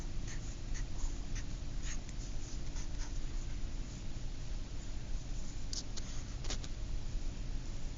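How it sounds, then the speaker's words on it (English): Math gets written on a classroom board in short, close scratchy strokes with a few sharp taps as the marker lands and lifts. The strokes run over a steady low room hum, and nobody speaks. "So in the parentheses, I have to write the same thing again."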